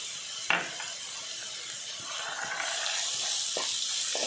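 Dry coconut, hing, turmeric and coriander-cumin powder are sautéed in a pan for a capsicum kayras, making a soft continuous sizzle and hiss. A light utensil tap comes near the start and a few faint scrapes follow.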